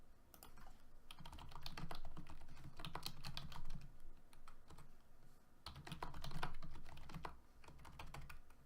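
Steady typing on a computer keyboard during an online Magic card game, a continuous run of quick clicking keystrokes with short pauses, close and fairly quiet, with no talk.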